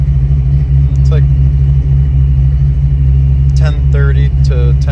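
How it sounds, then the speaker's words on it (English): A Ford Fox body Mustang engine idles steadily with a low, even rumble, close and continuous, while someone talks over it intermittently. "So it's been sitting here idling for the last 5 minutes or so, and it's good."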